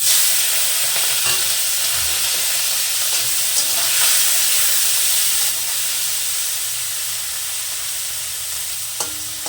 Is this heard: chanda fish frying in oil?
yes